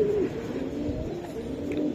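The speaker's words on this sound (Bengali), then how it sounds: "বাহ, অনেক সুন্দর কবুতর" A racing pigeon coos in low, soft murmuring tones, steady and close, with no voices over it.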